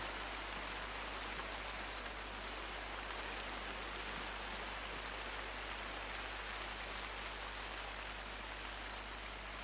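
Steady rain falls in a video game, a dense, even hiss of rainfall on surfaces running unbroken and fairly loud throughout, with no voices.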